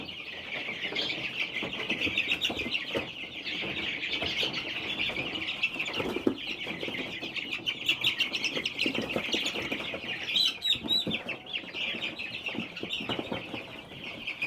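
A busy flock of chickens clucking and chirping continuously nearby in a barn with turkeys, a dense overlapping chorus with occasional louder calls.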